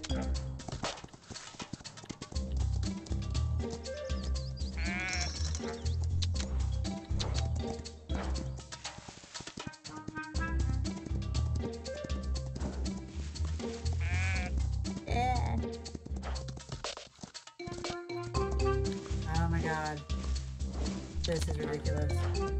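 Sheep bleat repeatedly in the Star Equestrian video game, layered over steady horse hoofbeats clip-clopping and game music, with a person talking throughout.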